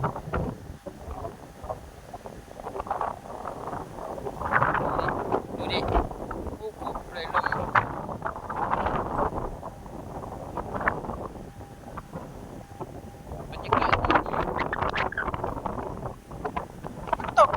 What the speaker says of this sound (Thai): ฟังเสียงลมต้นไม้ต้นนี้